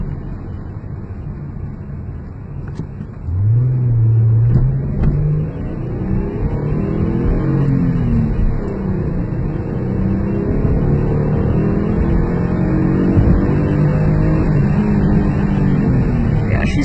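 A 1993 Mazda MX-3 GS accelerates hard, its engine note climbing steadily through the revs and staying loud and close throughout, with no voices over it.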